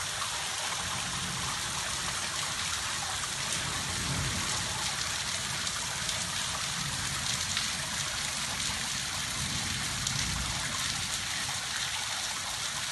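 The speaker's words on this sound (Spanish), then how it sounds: "Aquí se ve cómo baja el agua." Storm rainwater running down near a church bell tower in the evening, a continuous rushing, trickling flow with rain falling, steady and moderately distant, no talking.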